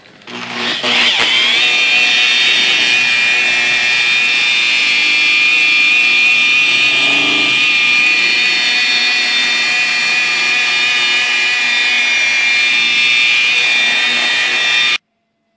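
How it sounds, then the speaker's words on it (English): A power buffer polishes oxidized car paint, spinning up with a sharp start and then holding a loud, steady high whine close by for about fourteen seconds before cutting off abruptly. "Now I'm going to show you our express buff."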